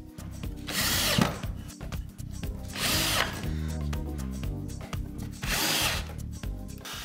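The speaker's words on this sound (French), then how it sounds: "Et je rajoute quelques vis pour renforcer le tout." A power drill drives screws into wood to reinforce a scrap-wood bin, with three separate loud whirring bursts separated by short pauses, close by and without talk.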